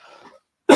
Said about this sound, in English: I just have to cough real quick.